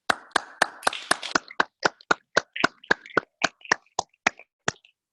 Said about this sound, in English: Parents and students and faculty, please offer a round of applause